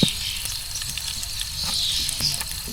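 Garlic sautéing in a pan at a riverside mountain campsite in Tanay, Rizal, giving a steady, close hiss of frying oil with occasional stirring scrapes and no talk.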